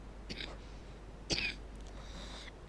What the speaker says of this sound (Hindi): मस्त एकदम खांसी हुई है मेरे को